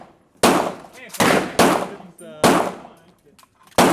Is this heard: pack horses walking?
no